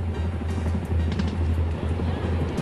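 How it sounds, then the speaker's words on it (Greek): Greek Army attack helicopters flying during a 2006 military exercise, heard as a steady low rotor drone throughout, with a faint, indistinct voice underneath. "ομάδα επιθετικών ελικόπτερων"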